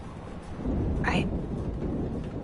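A thunderstorm in the video game Life is Strange, a steady wash of rain and rumbling storm noise with a brief rising whistle-like tone in the middle, constant and fairly loud throughout.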